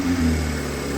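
Rebuilt Toyota Supra engine running smoothly, a brief steady mechanical hum with a low-pitched drone and a faint tone, close and moderately loud with no voices.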